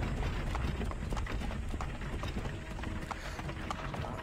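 Steady clip-clop of galloping horse hooves in the video game Assassin's Creed 3 over a dense, noisy background, rhythmic and continuous throughout.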